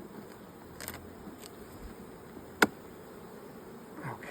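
Honey bees in an open hive during an inspection buzz in a soft, steady hum, with a sharp click partway through and occasional faint rustles.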